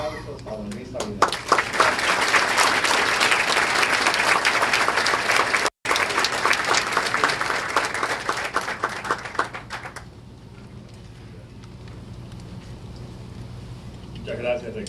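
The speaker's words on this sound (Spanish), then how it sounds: "Recibamos con aplausos a don Luis Abinader." An audience applauds a speaker's introduction at a university talk at INTEC in Santo Domingo, with steady, dense clapping for about ten seconds that then drops to a quieter room with light murmur and a final few claps.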